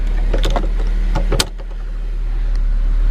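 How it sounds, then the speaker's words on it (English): A Honda S2000 convertible top powers down: a steady electric motor whir runs through the clip with a few clicks and clunks near the start and a sharp latch-like knock around the middle, close and fairly loud. "Let's drop the top real quick, make sure it operates."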